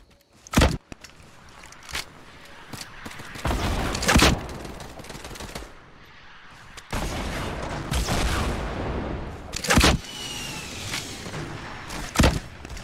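Gunfire from a Fortnite 50 v 50 match: several loud, sharp shots in separate bursts spread across the clip, with game noise and clattering between them and no talk.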